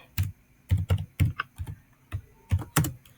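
Typing on a computer keyboard, with clusters of sharp, close key clicks in irregular bursts and short pauses between them.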